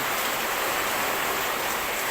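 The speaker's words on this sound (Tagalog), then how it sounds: "ang lakas ng hangin saka ng ulan" Heavy typhoon rain pours steadily with wind, a continuous dense hiss of water drumming on surfaces with no break.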